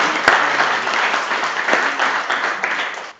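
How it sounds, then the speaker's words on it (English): A round of applause at a board meeting, steady close clapping from a roomful of people lasting about three seconds before fading out. "So can we give a round of applause for everybody?"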